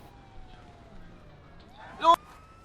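A police siren in the video game GTA 5 wails faintly in the background, its tone gliding upward, before a brief sharper burst near the end.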